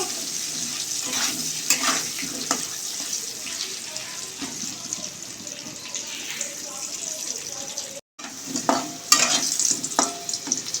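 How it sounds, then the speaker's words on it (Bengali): Potatoes fry in hot oil with salt and turmeric for a fish curry, giving a steady sizzle with stirring scrapes and clatters throughout and a brief break near the end. "আলুটা ভেজে নেব লাল লাল করে লবণ হলুদ দিয়ে লাল লাল করে ভেজে নেবো"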